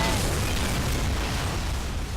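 A loud explosion in Call of Duty 4: Modern Warfare fills the clip, a dense roaring burst that rumbles and slowly decays, with no speech over it.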